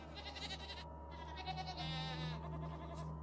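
A goat bleats in a wavering, drawn-out cry that repeats across a few seconds over a low steady hum, sounding moderately close but fairly quiet.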